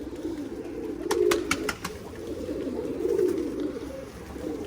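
Pigeons coo softly near scattered bird feed, low rhythmic coos repeating in two swells, with a few sharp ticks and faint background noise.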